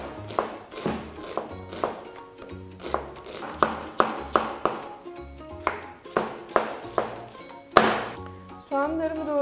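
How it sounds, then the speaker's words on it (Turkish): Knife chopping onion on a cutting board for a Muğla-style Sirken yoğurtlama dish, a steady run of sharp, close chops with short pauses between bursts, loud and clear with no talking. "Bu nedenle soğanımı doğrayarak devam ediyorum."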